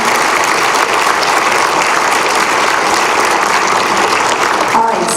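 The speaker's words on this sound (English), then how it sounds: "another round of applause for our students" Loud, close applause from families at a middle school winter concert for the student performers, thick and continuous throughout with a brief voice near the end.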